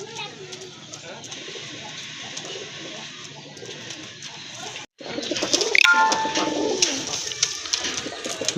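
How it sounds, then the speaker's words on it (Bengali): Bombay pigeons, large birds kept for sale, give low, throaty coos up close, with a louder burst of cooing and bird sounds partway through while someone talks nearby. "আরেক জোড়া কবুতর দেখতে পাচ্ছেন, এটা হচ্ছে বোম্বাই কবুতর"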